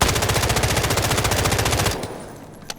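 K416 assault rifle firing in the shooter game Delta Force: a fast, loud continuous burst of automatic fire for about two seconds, then the shots stop and a faint tail with a single small click follows.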